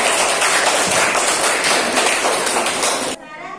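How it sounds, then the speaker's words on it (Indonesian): Classroom applause for a winning student group during a teaching practice lesson, a dense, loud burst of many hands clapping steadily for about three seconds before cutting off abruptly to a quiet room. "Tepuk tangan untuk kelompok 2."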